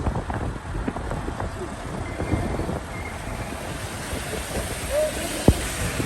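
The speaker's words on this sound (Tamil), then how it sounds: "பாருங்க இந்த தண்ணி ஓடுற தண்ணி" Continuous rushing river water at Sissu with wind gusting across the microphone; a faint voice can be heard now and then.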